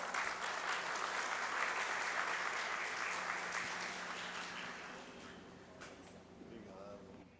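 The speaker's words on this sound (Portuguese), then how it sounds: "Uma salva de palmas." An audience applauds as a presenter takes the stage at a leather-industry seminar, with dense, even clapping that stays steady and then gradually fades toward the end.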